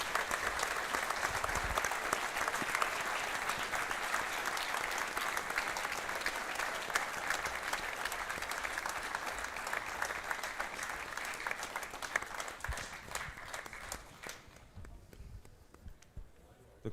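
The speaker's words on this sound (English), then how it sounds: "big round of applause" Crowd at a live boxing event applauding, a sustained round of clapping with some cheering that fades out near the end, with people talking over it.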